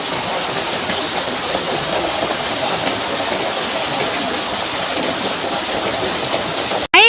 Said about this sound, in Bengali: আর এদিকে দেখো ঝর্ণার মতন বৃষ্টি শুরু হয়ে গেছে।